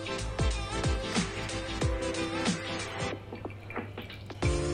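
Hot water at 92 degrees is poured over ground coffee in a Hario V60 pour-over, producing a soft, close trickle with repeated drips and splashes, fairly quiet and steady.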